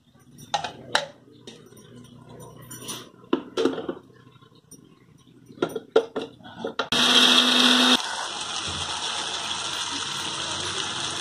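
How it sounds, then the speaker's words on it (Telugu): A mixer grinds fried mustard seeds, fenugreek and tamarind for tomato chutney: a loud, dense steady whir that starts abruptly after scattered clatter of lids and utensils, settling into a slightly lower continuous drone. "వేయించుకున్న ఆవాలు మెంతులు చింతపండు కలుపుకొని మిక్స్ చేసేసుకోవాలి గ్రైండ్ చేసుకోవాలి"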